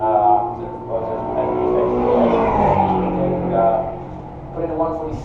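MG and invited British race cars lapping a circuit, engines rising and falling as they pass, loud throughout with a commentator talking over them.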